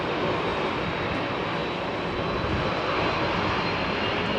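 A four-engine Airbus A340-300 airliner flies past at Heathrow, its broad jet roar loud and steady throughout with no gaps or voices.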